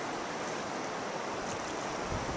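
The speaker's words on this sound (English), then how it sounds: "So here we are at the beach on the Sandy River." Broadband wash of moving water at a beach on the Sandy River, a steady close rush with no clear breaks, sounding like rippling current or small waves, with a slight low swell near the end and no talking.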